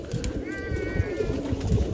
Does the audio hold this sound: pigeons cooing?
yes